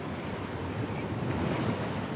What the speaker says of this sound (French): Le vent frais de l'océan austral redouble.